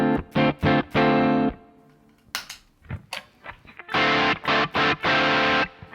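An electric guitar played through a Sonicake Rude Mouse distortion pedal, loud and close: short gritty chord stabs, a quieter stretch of picked notes in the middle, then another burst of distorted rhythmic chords, with no talking.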